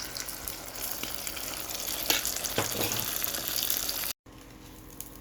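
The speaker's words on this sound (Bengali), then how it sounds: "এইটাই আমার শেষ ডিম ভাজা" The last egg frying in a pan, a dense, close sizzle with gushing bursts and crackles that swell midway, then cut off abruptly near the end into quiet.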